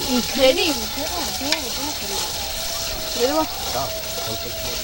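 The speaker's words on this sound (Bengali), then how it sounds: "বন্ধুরা এবার খাসির মাংস দিয়ে দিচ্ছি ভালো করে বলো মশলা কষিয়ে মাংসটা দিয়ে দিচ্ছি" Goat mutton tipped into a pan of sautéed spices at an outdoor picnic cook-up, sizzling and frying steadily for several seconds while voices talk over it nearby.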